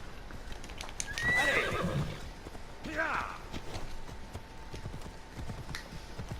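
A horse neighs twice in Assassin's Creed Odyssey, with a rising whinny near the start and a shorter call mid-clip over steady clip-clop hooves and background game ambience.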